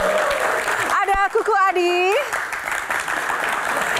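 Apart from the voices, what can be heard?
audience applause for panelists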